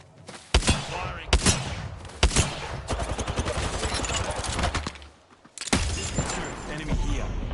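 Gunfire in a battle royale video game: sharp single shots at first, then a sustained rapid burst of automatic fire, a brief pause, and more shooting, loud and close.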